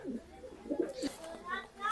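Soft, low coos of Dhanneywala Malwai pigeons sound close by, a few brief murmuring notes with faint chirps and distant voices around them.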